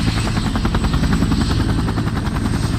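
Huey UH-1 military helicopter with a loud, close, steady rapid rotor chop over a deep engine drone, filling every moment without any voices.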